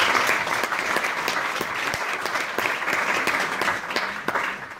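An audience applauds a performer at a musical performance, with dense, steady clapping from a crowd that holds loud and even throughout.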